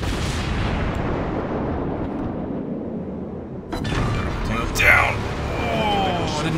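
Battleship guns fire in the World of Warships naval video game: a heavy boom rolls away into a long, fading rumble, then a second loud blast cracks out and rumbles on.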